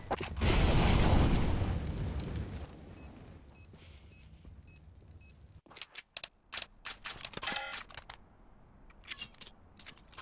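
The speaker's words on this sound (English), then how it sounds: "Deploying flashbang." A flashbang grenade goes off in a shooting video game with a loud, broad blast that fades over about two seconds, then a thin high ringing and a run of sharp mechanical clicks.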